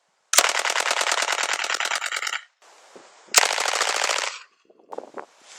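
Full-auto fire from a suppressed transferable machine gun with 36-round magazines, two long sustained bursts of rapid shots separated by a pause, loud and close, with faint rattling and handling noise afterward.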